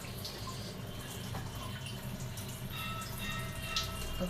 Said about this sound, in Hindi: तो पानी भरने के लिए लगा दिया।